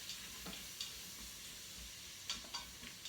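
Chopped onions sizzle faintly as they sauté in an Instant Pot, with a few soft scraping stirs and clicks from a utensil.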